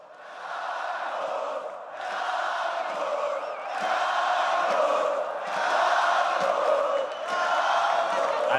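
A large esports arena crowd at the League of Legends All-Stars 2016 event cheers and roars continuously, a loud dense wall of voices with swelling waves of shouting and whoops.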